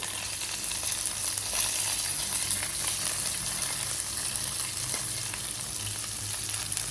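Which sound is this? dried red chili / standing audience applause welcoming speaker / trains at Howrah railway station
dried red chili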